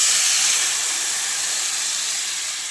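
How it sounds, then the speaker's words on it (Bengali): Water poured into a hot pan of frying plantain and potato with spices for a thin hilsa fish curry gives a loud close burst of steam hiss that fades slowly, with no talk. "দিয়ে দিচ্ছি জল।"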